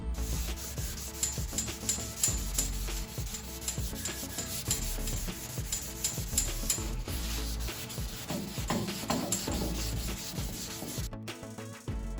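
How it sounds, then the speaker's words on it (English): Continuous wet sanding by hand on a Chevrolet Nova's clear coat, a rough rhythmic rubbing and scraping on a hard surface, fairly close and steady with no talking. "that was about 40 seconds of sanding"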